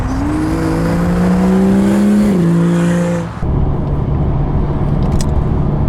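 A 600-horsepower Pontiac Trans Am with a swapped BMW engine drives on an open road, its loud steady engine note climbing then dropping sharply around a shift, followed by lower, rougher road and engine rumble.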